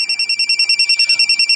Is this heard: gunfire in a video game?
no